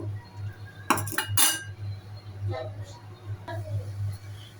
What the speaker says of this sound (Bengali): ঢাকনাটা খুলে নেব, খুলে নাড়াচাড়া করে নিচ্ছি